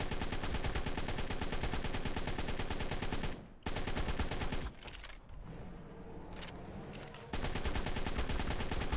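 Rapid rifle fire from a turret in the game ARK: Scorched Earth, a loud continuous stream of shots that breaks off briefly twice, with quieter ambience in the gap, then resumes.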